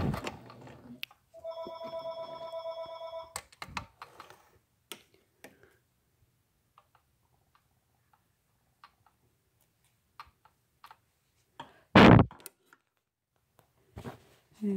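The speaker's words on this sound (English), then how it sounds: "There's my phone." A mobile phone rings briefly with a bright, tonal ringtone near the start, loud and close, then quiet handling noises and occasional knocks follow in a mostly still room.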